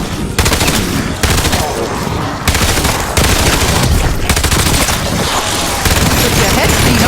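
Rapid automatic gunfire from the video game Black Ops 7 Zombies rattles out in loud, sustained bursts separated by brief pauses, dense and close across several seconds.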